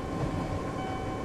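A train idles at a station in the Japanese Rail Sim: Journey to Kyoto game, giving a steady, close mechanical hum with faint tonal whine and a dense rumble throughout, no voices.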